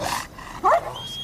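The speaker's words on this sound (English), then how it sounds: "We have the finest bloodhounds in the country." A bloodhound gives a short, fairly faint bark or yip against quiet background noise at a property in America where the hounds are kept alongside guard alligators.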